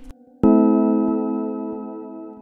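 Single sustained chord played in FL Studio with one note moved to the third, giving a sadder tone; it strikes once after a brief click, rings loud and clear, and decays slowly on its own.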